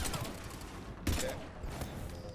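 Gunfire in Mass Effect 3: a few sharp shots, one louder burst around the middle, over a steady game background with faint voice traces.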